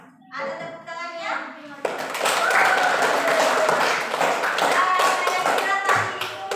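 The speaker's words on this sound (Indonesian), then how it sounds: "Ada tepuk tangannya?" Classroom of students clapping after a presentation, a burst of mixed hand claps starting abruptly and continuing steadily, with children's voices chattering briefly before and among the claps.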